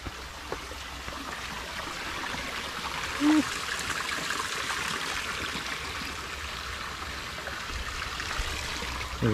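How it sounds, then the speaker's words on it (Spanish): A swollen stream flows steadily through a forest near a humble home, with a soft, continuous trickle and rush heard close and a few faint sounds and voices around it. "Mira cómo hay bajado la ya la quebrada ya de agua."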